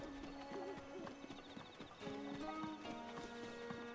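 Horse hooves clip-clop in a quick, regular gait while riding in The Legend of Zelda: Breath of the Wild, soft and steady over a faint musical background.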